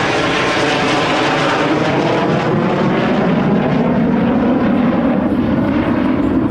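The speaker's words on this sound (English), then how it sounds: "Gear and flaps down, coming by at about 145 knots." Military aircraft passing slowly and low at an air show with landing gear and flaps down, around 145 knots: a loud, steady engine roar with slowly shifting pitch that fills the whole stretch.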